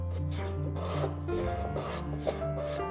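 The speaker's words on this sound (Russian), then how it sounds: "Сейчас попробуем строгать заплечик." A Veritas rebate plane shaves a wooden shoulder in a few rasping strokes, close, with a steady tonal hum in the background.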